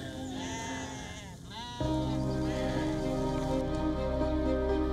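Sheep bleat at a Rohingya refugee facility in Bangladesh, a few wavering calls up close over a steady patter like rain, growing denser and louder in the second half.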